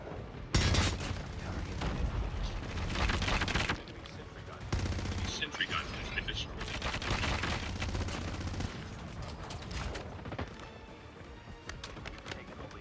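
Bursts of gunfire from Call of Duty Mobile ranked multiplayer, rapid volleys of shots in several clusters across the stretch, loud and close, with game noise between them.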